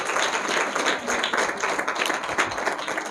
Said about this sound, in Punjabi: ਇੱਕ ਵਾਰ ਜ਼ੋਰਦਾਰ ਤਾਲੀਆਂ ਦੇ ਨਾਲ ਸਵਾਗਤ ਕਰਾਂਗੇ